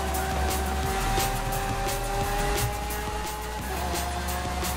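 A car in Forza Horizon 5 drives past a Lamborghini Aventador SV, its engine a steady, loud drone with sustained tonal whine and road rumble. The sound holds level throughout, with no talking.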